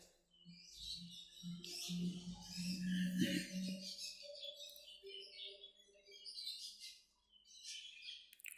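Budgerigars and Java sparrows at a bird market chirp and twitter in a busy cluster, high bright calls overlapping with a low hum underneath, fairly close and moderately loud.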